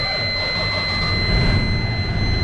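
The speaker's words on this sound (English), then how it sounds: "start up the engine" A truck's engine starts up during an in-cab pre-trip inspection, giving a steady, close, low rumble with a constant high whine over it that swells slightly midway.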